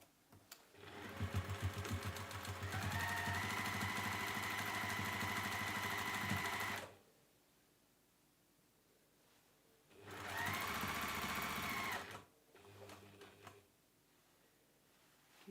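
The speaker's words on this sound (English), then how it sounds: "let's sew down this side" A sewing machine runs a long steady seam on a fabric book sleeve with a fast mechanical whir, stops, then sews a shorter stretch, followed by a few brief clicks, near and clear.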